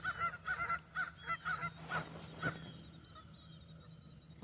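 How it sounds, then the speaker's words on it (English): Geese honk on a bank some distance away, a rhythmic run of about eight calls followed by fainter scattered honks, with no talk. "There's geese out over there somewhere"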